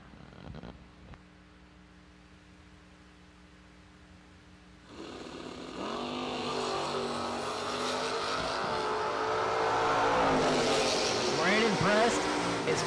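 A 1978 Camaro and a 1971 Chevelle make a drag strip run, engines starting low and then swelling into a loud, sustained roar with rising revs, heard under a commentator's talk.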